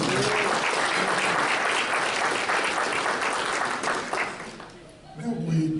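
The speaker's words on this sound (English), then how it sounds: "So let's get a loud applause for all of that." A dinner audience at a UNC-Chapel Hill Black alumni event applauds the named honorees, with loud, dense clapping that holds steady for about four seconds before fading, then a voice starts to speak near the end.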